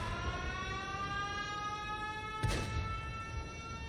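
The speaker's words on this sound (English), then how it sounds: "It's like the capture flag siren." A capture-the-flag siren in a video game sounds as a loud, sustained, droning wail with rich stacked tones. A brief burst of noise flares over it partway through.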